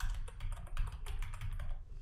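Keys clatter on a computer keyboard while a search term is typed into a library database, a quick, uneven run of close, soft clicks with no voices.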